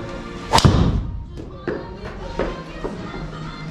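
A Cobra golf driver striking a golf ball, one loud, sharp close impact followed by quieter thuds and faint background noise.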